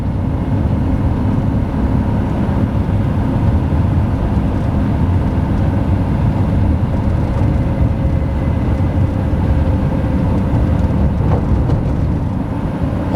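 A 2003 Lamborghini Murcielago held in second gear on a bumpy road, with a steady, loud low rumble of engine and road noise running unbroken throughout, no talking.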